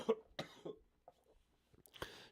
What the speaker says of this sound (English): Can't do without coughing.